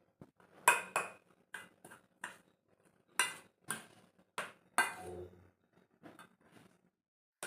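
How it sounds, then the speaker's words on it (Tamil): A spoon clinks against a bowl while rice flour is mixed with sesame oil, giving sparse, fairly faint scraping and tapping strokes at irregular intervals with quiet pauses between them. "அதை சேர்த்துட்டு இப்போ அதையும் நல்லா மிக்ஸ் பண்ணி விட்டுக்குவோம்."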